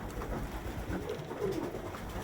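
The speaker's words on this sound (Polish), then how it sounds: "dbam o gołębie" Pigeons cooing in a loft, a few low, soft coos close by over a continuous murmur of background noise.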